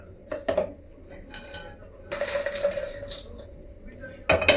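Metal utensil scrapes and clinks against a pan as roasted dry dates (kharik) are lifted out, a few short bursts of clatter separated by quieter gaps, close by.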